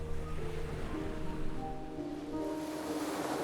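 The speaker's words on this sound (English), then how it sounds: "a pleasant, cool sea breeze blows in from the northern oceans, stirring up fine sand grains and gently breaking waves." Gently breaking ocean waves in a quiet bay, a soft continuous wash of surf with a light breeze, low and even, no voices.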